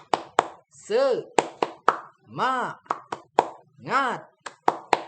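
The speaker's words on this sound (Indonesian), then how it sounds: "mari semua ikuti gerakan dan tepuk semangat yang akan saya praktikkan seperti demikian. Tepuk semangat." Rhythmic 'tepuk semangat' hand claps in a classroom-style chant: sharp, close claps in quick patterned groups alternate with a voice calling out between them.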